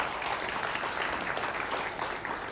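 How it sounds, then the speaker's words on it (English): Church congregation applauding, a dense, even burst of many hands clapping that holds steady at moderate volume throughout, with no talking over it. "can we give a big round of applause for the 6 souls that walked up here this month"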